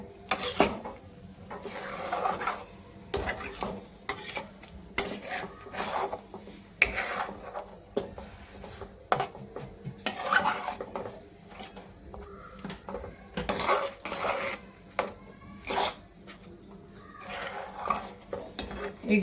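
Beetroot barfi mixture being sautéed in a pan: a spatula rasps and scrapes against the pan again and again in an uneven, continuous rhythm, close and fairly loud, with no talking.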